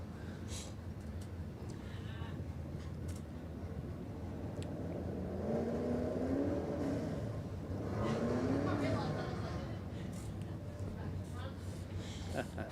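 Drag racing motorcycles at a Warwick Dragfest radial shootout rev in the staging lanes, a steady distant engine drone rising into two revving sweeps midway, heard beneath crowd and announcer-style background noise.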